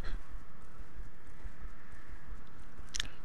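A horse in the online role-playing game Champions of Regnum trots along with a regular, quick clip-clop of hooves, close and steady, with a brief sharp clink near the end.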